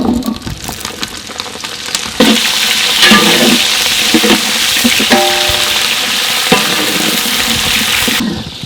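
Sesame oil sizzles steadily as cinnamon and onions fry for a village-style red country chicken curry, a broad, continuous hiss that swells partway through, with stirring clinks and scrapes on top and no talking.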